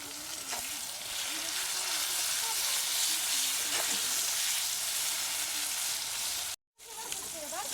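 Chopped tomatoes frying in oil with salt for a meat curry, a loud continuous close sizzle with occasional stirring, broken by a brief cut to silence near the end.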